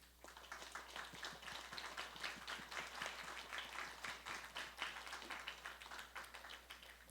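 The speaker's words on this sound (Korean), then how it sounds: "모두 박수로 환영해 주세요." A church congregation claps in welcome during a Sunday worship service, steady dense applause from many hands filling the room for about seven seconds, with no talking over it.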